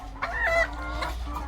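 Brown Rhode Island cross laying hens cluck close by, a few short throaty calls over a low steady background hum.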